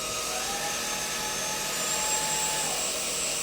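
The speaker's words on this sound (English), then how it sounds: "we're going to do the rice test" A cordless vacuum cleaner roars steadily at close range while sucking up spilled rice, its broadband whooshing drone continuous with a faint high whine running through it.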